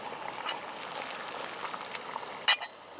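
A pot of water for tea boils at a camp shelter with a soft, steady bubbling hiss, punctuated near the end by a sharp metallic clink.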